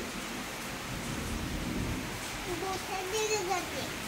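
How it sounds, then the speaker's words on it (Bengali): Low thunder rumbles under steady rain, with a voice and other voices nearby. "মেঘ ডাকছে তো"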